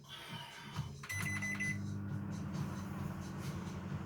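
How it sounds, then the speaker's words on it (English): A microwave oven heats pre-cooked basmati rice: a door click and beeps, then a steady low hum that continues alone. "A couple of minutes in the microwave"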